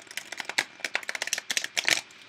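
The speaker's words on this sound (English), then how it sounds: "I'm going to shuffle one more time and get something cleaner here" Tarot cards riffle-shuffled in a quick crisp burst of papery flutters and snaps, close and moderately loud, with no voices.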